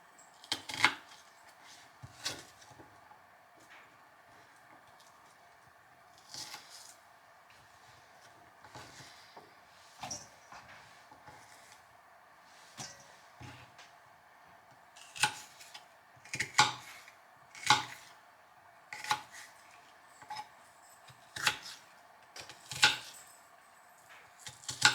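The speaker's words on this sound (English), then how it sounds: "And then I make slices like this. And cut it this way so it's little pieces." Knife chopping a garden onion into little pieces on a cutting board, sharp close taps in loose bursts with pauses, growing quicker and louder toward the end.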